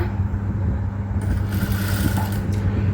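Sewing machine stitching a blouse, a steady close mechanical whirr and rattle running continuously with no talk.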